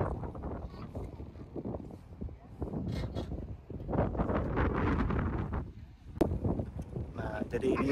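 Strong wind at Mount Eden lookout in Auckland buffets the microphone in loud, gusty roaring surges, with a person speaking intermittently underneath.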